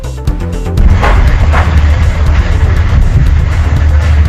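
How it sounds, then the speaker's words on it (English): A car bomb blast near an airport in Somalia, a sudden loud low boom followed by a sustained heavy rumble of the explosion rolling on without any voices. "A car bomb exploding, sending thick smoke into the sky feet away from an airport in Somalia."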